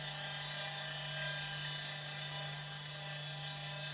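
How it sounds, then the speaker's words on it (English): Hard drive of a Compaq LTE 286 laptop spinning, a steady whirring hum with high-pitched whine that holds constant and close throughout, with no talking. "The hard drive is still spinning."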